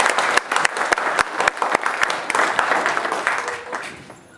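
A crowd at a Holi 2016 gathering applauds, with dense, sharp clapping up close that carries on steadily before thinning and fading toward the end.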